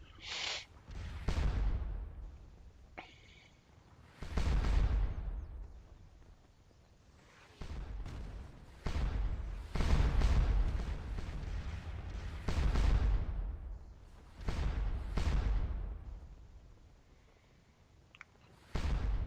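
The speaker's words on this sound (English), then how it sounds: "You can't do anything against it, except stand there and get bombarded by artillery." Artillery bombardment in the Napoleonic video game Scourge of War Waterloo, with repeated deep booming cannon blasts every few seconds, each rolling away into a long rumbling decay, heard alone without talk.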